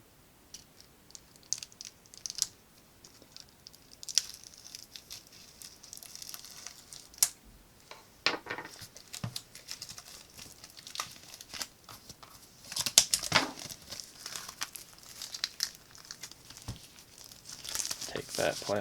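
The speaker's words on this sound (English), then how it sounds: "Take that plastic off." Plastic shrink wrap being cut open and peeled off an art book for the Fire Emblem 30th anniversary: soft crinkling, tearing and scattered clicks, quiet and close, with a person talking over it.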